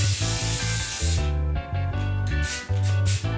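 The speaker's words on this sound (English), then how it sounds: "So first and foremost, I got some roof spray paint." Roof spray paint hissing from an aerosol can in a few close, loud bursts with short pauses between them, over a steady musical background.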